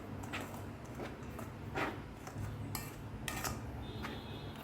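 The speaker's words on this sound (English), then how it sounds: "Mix all the dry ingredients." Dry ingredients for fish bun dough, including sugar and salt, are mixed in a bowl, giving quiet, scattered clinks and scrapes of a utensil against the bowl over a steady low background hum, with no talking.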